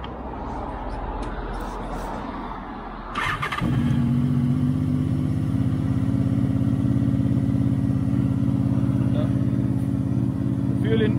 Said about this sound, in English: let me switch on the bike there and let me show you if it is working right now